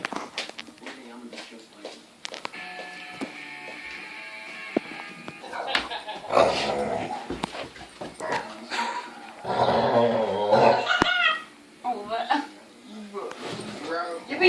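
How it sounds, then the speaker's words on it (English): A pet dog growls in low, intermittent bursts, mixed with people talking and some movement close by. "We're going to have to listen to that growl one more time."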